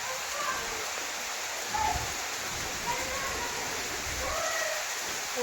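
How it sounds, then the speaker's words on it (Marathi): Heavy monsoon rain pours steadily outside a rural home beside a field of pigeon pea crop on a September morning, a dense, even hiss holding at the same level throughout with no voices. "आता मुसळधार पाऊस पडतोय"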